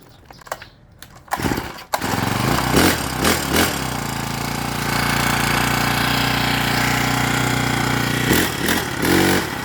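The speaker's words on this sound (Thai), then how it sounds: "ลองดูครับตอนนี้ติดเครื่องครับ" A small engine sputters to life after a few attempts, then runs steadily with a loud, rattling drone close by; its blades do not spin.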